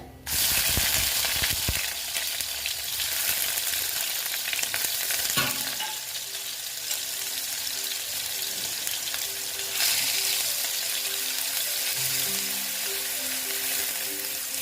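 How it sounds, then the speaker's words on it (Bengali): Onions fry with black cumin seeds in hot oil in a pan, giving a loud, continuous sizzle with occasional stirring scrapes, and no voice is heard. "পেঁয়াজটা একটু ভালো মতো ভেজে নিচ্ছি"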